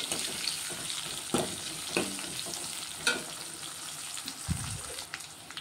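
Onions frying in a pan for a tomato rasam, a close, steady sizzle punctuated by several sharp stirring scrapes and knocks of a spoon against the pan, with no one speaking.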